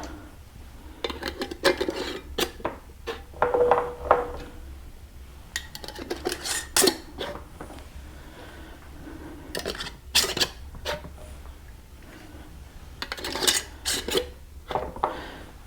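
Metal bands are twisted fingertip-tight onto glass canning jars of Caribbean jerk chicken, giving bursts of clinking and scraping metal-on-glass with brief quiet gaps, close and fairly loud, with no speech.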